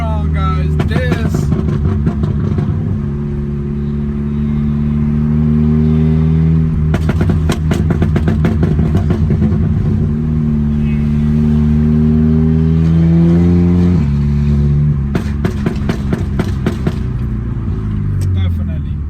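A car with an APR stage 2 transmission tune accelerates hard, its engine note climbing in pitch, then dropping sharply at each quick upshift before rising again, loud and close, with someone talking excitedly over it.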